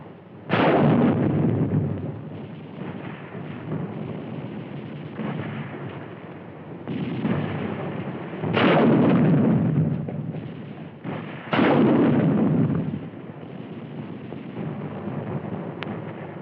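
Bursts of battlefield fire from an automatic rifle and a 3.5-inch bazooka team in 1951 Korean War combat, several loud booming blasts a few seconds apart over a rumbling, wind-buffeted background.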